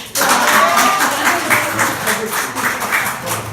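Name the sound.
audience applause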